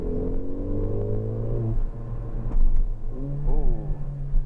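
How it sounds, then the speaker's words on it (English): Exhaust of a 2017 Mercedes-AMG A45 four-cylinder hot hatch revving up, dropping, then rising again in a close, throaty burble with a low rumbling undertone. "let's just take a listen to the exhaust notes"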